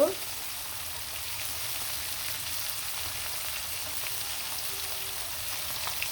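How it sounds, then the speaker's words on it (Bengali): Catla river fish frying in oil in a pan, a steady, even crackling sizzle that stays close and constant, with a brief louder bump at the very start. "সবগুলো মাছও কিন্তু খুব সুন্দরভাবে লাল লাল করে ভেজে নিলাম"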